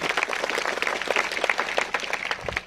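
Crowd clapping for performing artists at a tribal kul dev sammelan in Dahanu, dense continuous applause from many people at moderate volume, without talking.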